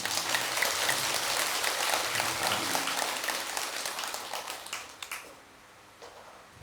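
An audience at a Buddhist dharma service in a Korean temple claps in a sustained burst that tapers off and fades out near the end, with a brief voice at the close.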